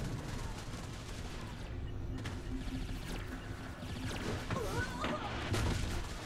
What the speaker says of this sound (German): Die schießen schon auf mich